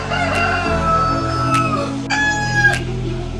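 Several chickens, including Brahma and Buff Brahma breeds, cluck and squawk close by on a farm, with a few sharp calls standing out over a steady farmyard hum.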